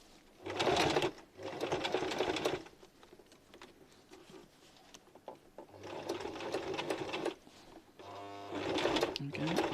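A domestic sewing machine stitches slowly and carefully through thick fabric while a skirt is upcycled into a bag, running in several loud close bursts with pauses between them and a voice speaking quietly in the gaps.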